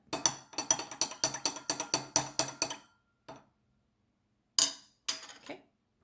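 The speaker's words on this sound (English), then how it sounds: "I'm going to add a few drops of dish soap, and I'm going to stir that up" A spoon clinks rapidly against a glass while stirring hydrogen peroxide and dish soap, about a dozen quick bright taps, then a few isolated clinks after pauses, close and clear with no talk.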